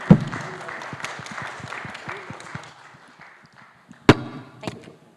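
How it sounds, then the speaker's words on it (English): Applause for the panelists at a conference side event in a ballroom, scattered clapping that tapers off, followed by a couple of sharp, loud claps or knocks near the end. "Just a round of applause"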